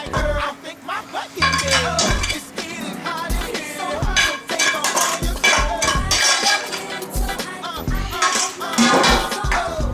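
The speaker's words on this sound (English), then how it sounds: "So we're gonna put a spoon in every one of these." Metal spoons clink and ring against serving dishes of side foods, including broccoli and rigatoni, in a busy run of close, bright taps and chimes scattered across the whole stretch.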